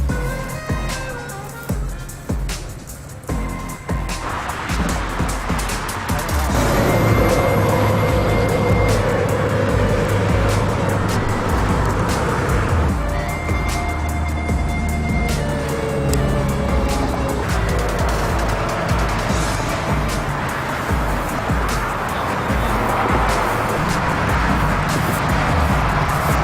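Heavy highway traffic rushes past a roadside litter cleanup section. Cars pass in close succession as a steady, loud roar that swells and fades, with no talking.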